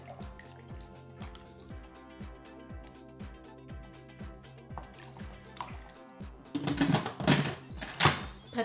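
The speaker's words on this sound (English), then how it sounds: "Stir it all together." A utensil stirs chicken noodle soup ingredients with cut-up chicken breast in an Instant Pot: a regular series of soft knocks and liquid slops, building to louder splashy thumps near the end, over a faint background tone.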